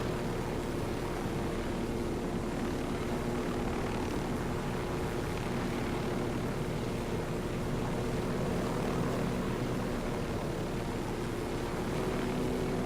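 A helicopter in Ghost Recon Wildlands gives a steady, fairly faint rotor and engine drone that continues without a break, with no talking over it.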